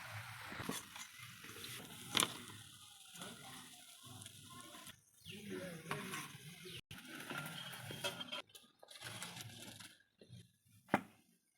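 Vegetarian rolls fry in hot oil with a soft, steady sizzle, broken by occasional clinks and stirs of a pan and utensil; fairly quiet overall.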